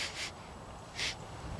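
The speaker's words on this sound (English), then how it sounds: "wood sniffing again." Close, soft sniffing breaths drawn over a freshly chainsawed piece of apple wood outdoors, two or three short airy snorts spaced apart with quiet rustling between.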